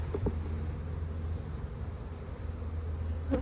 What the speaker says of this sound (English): So we're going to shake these bees off gently.